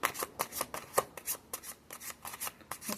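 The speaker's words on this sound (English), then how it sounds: "Let me get a couple cards for the Eight of Wands." Tarot cards shuffled by hand, a run of crisp riffling bursts and soft slaps in an uneven rhythm, close and clear with no talk over them.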